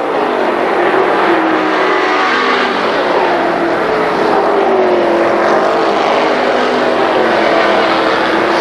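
Race cars roaring around Kil Kare Speedway at a Labor Day championship, a loud continuous engine drone that rises and falls as cars pass, heard from trackside without a break.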